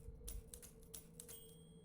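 Typewriter keys clacking in Dishonored 2, a few sharp separate strikes at an uneven pace over a low steady hum, fairly quiet and close.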